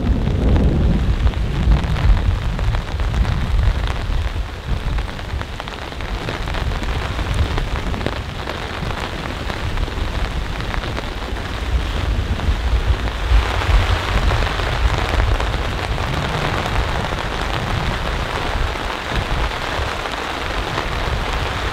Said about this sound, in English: the rain hasn't been that heavy, but it's been coming down.